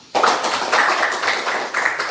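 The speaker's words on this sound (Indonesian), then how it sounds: "tepuk tangan untuk kita semua" A classroom of students in an Islamic faith and ethics lesson bursts into brisk group hand clapping, a sudden close flurry of many hands that carries on evenly for a couple of seconds.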